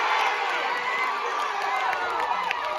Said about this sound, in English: This is the sound of collegiate women's sports.